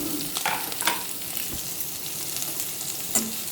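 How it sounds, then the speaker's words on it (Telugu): Chopped onions, green chillies and curry leaves hitting hot oil with toasted cumin, a soft continuous sizzle with light stirring scrapes and small pops, close and fairly quiet. "జీలకర్ర వేగాక ఇవి వేసేసుకోవాలి."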